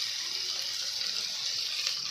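Cauliflower goes into potatoes already frying in oil in a pan, giving a steady, close hiss of sizzling with a small clatter at the very end.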